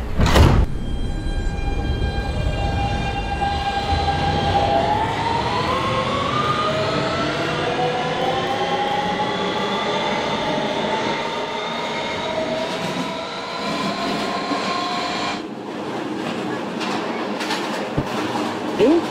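Kawasaki R160B subway train with Siemens motors in a Roblox game: a door thump near the start, then a steady rising electric motor whine as the train pulls out and gathers speed, with a shift in the noise near the end.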